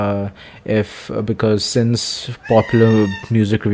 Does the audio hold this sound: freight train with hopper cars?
no